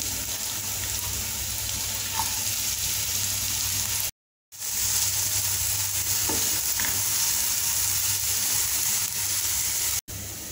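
Onions with ginger frying over high flame in a pan, a dense continuous sizzle with faint stirring scrapes, close up, briefly cut to silence once before resuming.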